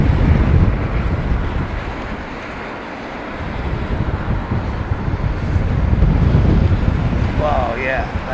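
Strong wind gusts at Heathrow Airport during a storm buffet the microphone in a continuous rumbling roar that swells and eases, loud and close.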